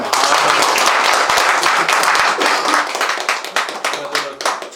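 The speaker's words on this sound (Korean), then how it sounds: "나는 박수 한번 쳐드립시다" A village meeting crowd breaks into brisk hand clapping, loud and close, dense at first and then tapering off into scattered claps, with voices mixed underneath.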